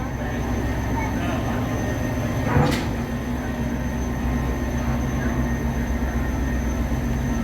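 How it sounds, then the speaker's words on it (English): Western Maryland Scenic Railroad train pulling out of Cumberland Depot in Cumberland, Maryland: a steady low rumble of rolling cars, with a brief louder clank or squeal partway through. "Pulling out of Cumberland Depot, Cumberland, Maryland, here in the Western Maryland Scenic Railroad."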